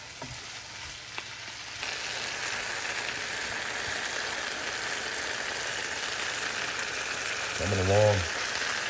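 Vegetables stir-fry in a pan, a dense steady sizzle with occasional scraping from stirring; a voice speaks briefly near the end over the frying.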